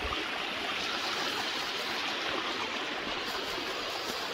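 A stream runs along a hiking trail leading to the Wind Caves in Wyoming, a steady, full rush of flowing water close by that holds constant throughout with no voices.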